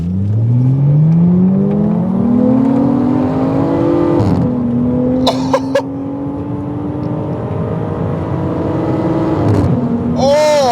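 A Toyota Chaser engine climbs in pitch as it accelerates, drops with a gear shift, then pulls again, loud and close with a brief voice near the end.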